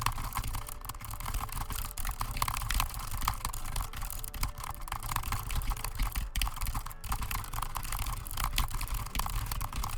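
Fast, dense keystrokes clatter continuously on a computer keyboard during a typing speed test, close and steady with no pauses.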